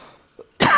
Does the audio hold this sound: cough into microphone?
yes